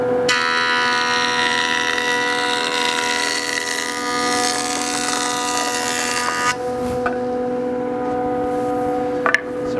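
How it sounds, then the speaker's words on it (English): A Grizzly jointer set for a heavy one-eighth-inch pass drones loudly with a steady tonal whine as a 2x4 board is planed, the cutting noise dropping off partway through while the motor keeps running. "So we're set on about 1/8 of an inch here on a Grizzly joiner."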